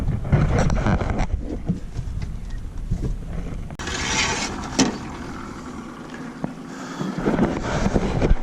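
A fishing boat's outboard motor warms up on Weiss Lake, giving a steady hum through gusts of wind noise, and no one speaks.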